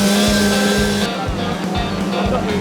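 A 1000 hp Corvette fitted with a Mazda 20B rotary engine on a dyno, holding a loud, steady high-rpm roar with a brief shift in pitch partway through, close and continuous.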